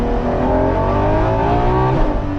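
A Ferrari LaFerrari's naturally aspirated V12 roars loudly and continuously under hard acceleration, a dense, close engine sound with no talking.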